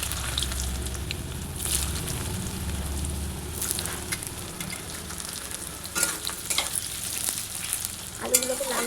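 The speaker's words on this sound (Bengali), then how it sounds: "আলুগুলোকে লাল লাল করে ভাজতে হবে" Potatoes frying in hot oil with whole garam masala and cumin, a continuous close sizzle broken by occasional stirring scrapes and a sharp clatter near the end.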